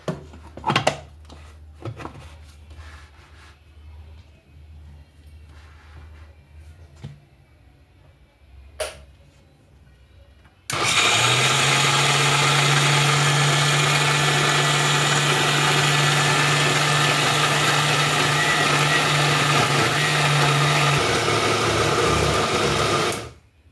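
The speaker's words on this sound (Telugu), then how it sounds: "రండి ఇలాగా మిక్సీకి అయితే వేసేసుకుందాము" A loud, steady motorized whir starts abruptly after quiet handling noises and runs continuously for about twelve seconds before cutting off, a mixer grinder blending urad dal batter.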